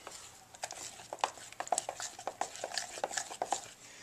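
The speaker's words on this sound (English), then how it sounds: "I'm going to stir it up. Always scrape the sides." A utensil stirring chocolate truffle mixture in a bowl and scraping the sides, giving quiet, irregular clinks and scrapes in a soft, close rhythm with no talking.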